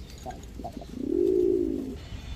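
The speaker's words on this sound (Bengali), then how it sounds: "এখন দেখাবো এক দশকের এক জোড়া লালপাত্তি কবুতর" A pair of Lalpatti pigeons gives one soft, rounded coo, close by, that swells for about a second over a quiet background with faint earlier chirps.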